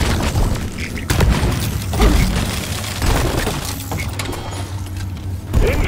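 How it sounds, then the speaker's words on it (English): A cryo grenade goes off in the video game Deep Rock Galactic: loud, close bursts with shattering, cracking bangs recurring every second or so over a rumbling low background, with a final sharp hit at the end. "Cryo grenade!"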